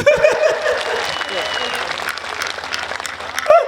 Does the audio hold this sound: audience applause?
yes